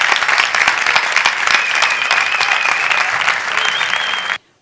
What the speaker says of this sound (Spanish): recibamos con un fuerte aplauso a Guillermo Woods y a María Llompart.